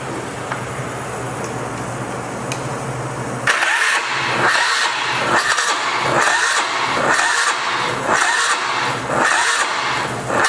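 A 2003 Polaris Sportsman 500 ATV with a swapped engine, jumped with a screwdriver, cranks and catches after a few quiet seconds, then runs loud and close with a rough, pulsing rhythm.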